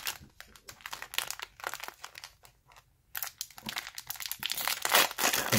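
Foil Yu-Gi-Oh booster pack wrapper crinkling and tearing in bursts of sharp rustles, close up with brief pauses in between.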